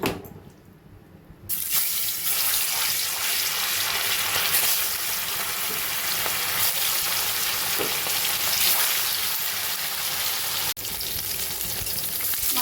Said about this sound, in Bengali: এই মাছটা কড়াইয়ে দিয়ে দেবো